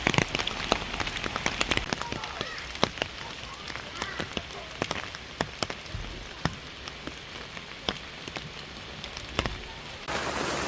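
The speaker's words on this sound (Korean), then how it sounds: "비가 많이 와서 피칭하는데 힘드실 것 같아요." Heavy rain falls at an autumn riverside auto campsite around an air tent, a dense close patter broken by sharp, irregular drops striking a surface nearby.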